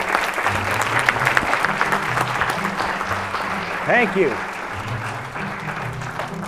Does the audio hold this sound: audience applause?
yes